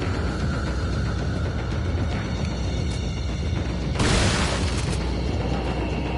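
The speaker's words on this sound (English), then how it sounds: "That explosion." A video game explosion in Resident Evil 4 bursts as a sudden, loud broadband boom over a dense, constant rumble of game sound and music.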